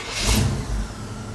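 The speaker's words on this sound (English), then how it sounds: "I'm gonna shut it off and see how it starts." A Comet car, recently tuned for more horsepower, cranks and catches close by in a brief engine start, followed by a short rough idle.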